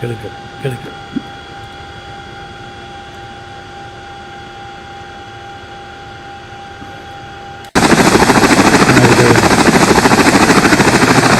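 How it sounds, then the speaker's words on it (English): A Boeing Chinook helicopter of the Air Force at Middle Wallop starts faint with a steady hum, then abruptly becomes a loud, close, rapid rotor chop that continues to the end. "Boeing Chinook Air Force."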